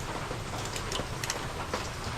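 Rain hisses steadily nearby, with scattered heavier drops tapping through the dense wash of sound.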